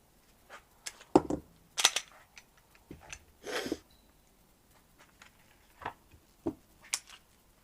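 Reports from a Smith and Wesson M&P Shield 9mm pistol, several sharp shots at uneven intervals with a longer rough burst in the middle, set against faint outdoor ambience.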